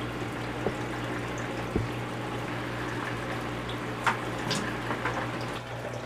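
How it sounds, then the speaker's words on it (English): Water siphoned out of an aquarium tank into a bucket, a steady low trickle and splash of flowing water with a constant hum underneath and a few soft bumps and clicks. "So now that we've got our siphon going"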